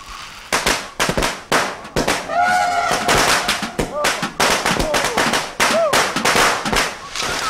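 Rapid bursts of firecrackers popping loudly in irregular clusters, with a few whistling or squealing tones mixed among the bangs.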